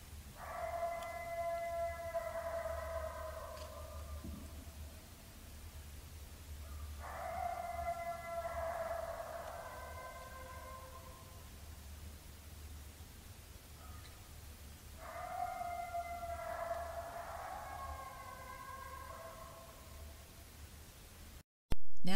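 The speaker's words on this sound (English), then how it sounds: "coyote howl" Coyote howls in three long, wavering drawn-out calls spaced several seconds apart, carried over a low steady background rumble, moderately distant and fairly faint.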